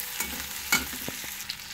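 Onions frying in a pan for a drumstick dal, a steady low sizzle with a few sharp spatula scrapes and clinks against the pan, close and alone without talk.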